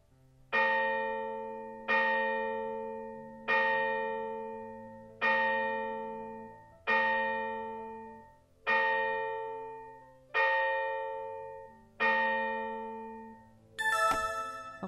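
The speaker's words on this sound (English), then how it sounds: "using the hammer we could strike the bells" In a video game, eight evenly spaced bell strikes from a hammer ring out one after another, each decaying slowly, followed by a brighter chiming burst at the end.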